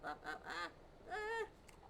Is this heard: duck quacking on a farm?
yes